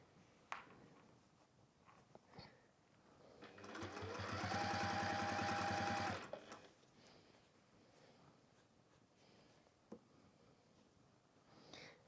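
A sewing machine top stitches around a handbag in one steady run of about two seconds, surrounded by quiet room sounds and faint taps.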